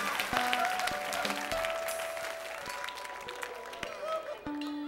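Audience applause fills a comedy theater, a broad steady wash of clapping that runs the whole stretch with a few sharp accents, while a voice speaks over it.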